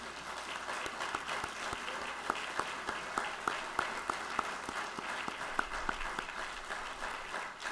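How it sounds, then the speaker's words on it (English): Steady applause from a crowd of friends and family at a college ROTC commissioning ceremony for new second lieutenants, sustained and even throughout with a few sharper individual claps standing out. "Please join me in a round of applause for these lieutenants."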